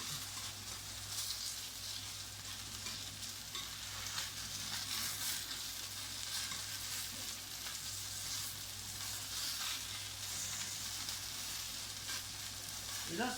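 Chicken fillet pieces cooking in olive oil in a pan, a continuous soft frying crackle and hiss, fairly quiet and steady throughout, with no talk.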